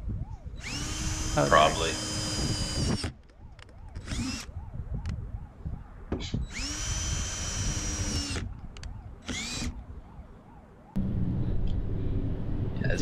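A power drill whirs loudly in two sustained bursts as part of a durability test, with shorter revving spurts between them and people talking over the pauses.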